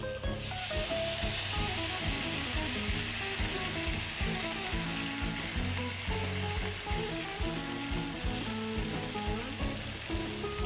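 Potatoes fry in butter in a pan for a hash breakfast, a steady close sizzle and hiss running throughout with faint stirring scrapes underneath and no talking.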